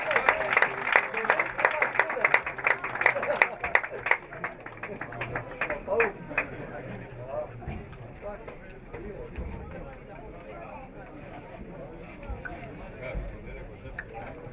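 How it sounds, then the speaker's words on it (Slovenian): Spectators at a football match between Zorya and NK Maribor applaud a goal, a burst of scattered clapping at first that fades within a few seconds beneath a commentator's voice. "Poteza za vodstvo 1:0 je izzvala aplavz prisotnih."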